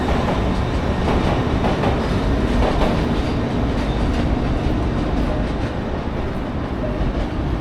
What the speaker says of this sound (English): a Met train just leaving